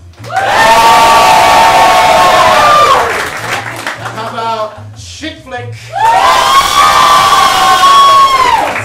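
Student showcase audience cheering and screaming loudly in two long sustained bursts, with a shouting host speaking in a brief lull between them.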